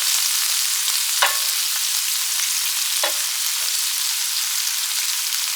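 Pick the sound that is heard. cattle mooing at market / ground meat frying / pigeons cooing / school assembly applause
ground meat frying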